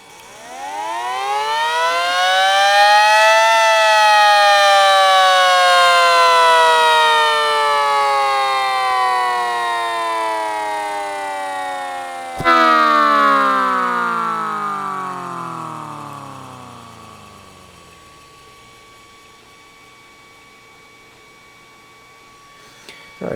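A mini SD10 siren run from a 9-volt battery winds up quickly to a loud, rising wail, then coasts down in a long falling howl that fades toward silence.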